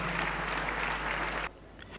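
A congregation claps loudly in a steady wash of applause acclaiming Jesus Christ, then the clapping cuts off abruptly to a quiet room with a few faint scattered sounds.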